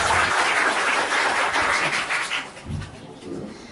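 Audience at a marketing presentation claps, a dense burst of applause that fades after a few seconds into scattered claps.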